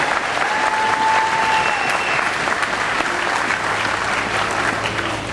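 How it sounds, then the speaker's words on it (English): Steady, dense applause fills the whole stretch, a large crowd at a political gathering clapping continuously at an even loudness with no talk over it. "Let's give Linwood a round of applause for a terrific event."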